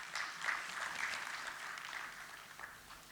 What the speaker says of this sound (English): can we start our day with a huge round of applause?